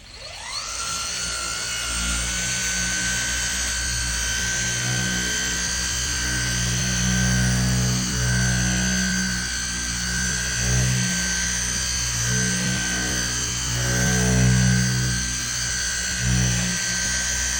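A power buffer polishing a surface whines at a high, steady pitch for a long stretch after spinning up, with a low motor hum beneath and slight wavering in load.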